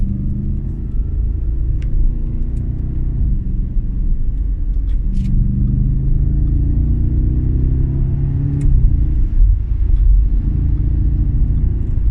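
An Audi RS4 with a 331 kW engine accelerates hard while overtaking, heard from inside as a loud, continuous low rumble with rising engine tones and road noise.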